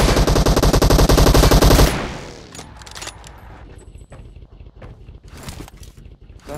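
Rapid automatic gunfire from PUBG Mobile rattles loud and close for about two seconds, then stops, followed by quieter scattered shots, footsteps and clatter.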